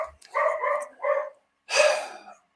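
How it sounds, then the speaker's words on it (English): Dogs next door bark in a few muffled bursts, fairly close through the wall, with a short pause before a longer, louder burst of barking. "Next door I've got dogs, as you can tell. If you can hear them on the microphone, sorry about that."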